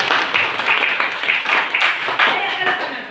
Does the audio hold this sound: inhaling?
no